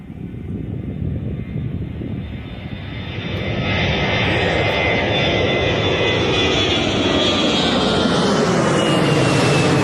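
An easyJet Airbus A320 climbs out on departure and passes overhead, a loud, steady jet roar that swells and brightens as it nears, with a rising whine layered on top.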